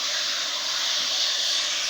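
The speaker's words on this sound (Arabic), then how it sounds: "هنشوحوها كده اهو، هنشوحها كده" Minced meat and onions sizzle while being sautéed in a pan for baked béchamel pasta, a steady, bright, close hiss holding evenly throughout.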